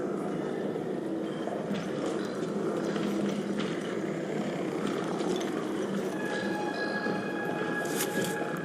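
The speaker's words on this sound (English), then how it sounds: "Train is on the way." A video game train rolls in with a continuous low rumble, faint metallic squeals and clanks rising near the end, steady and fairly close throughout.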